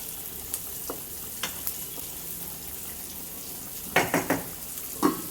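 Fish masala powder being stirred into a frying pan, with a soft, quiet sizzle under scattered scraping clinks of a spoon against the pan, a few sharper knocks near the end.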